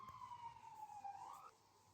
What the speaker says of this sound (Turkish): Ambulans sesleri geliyor.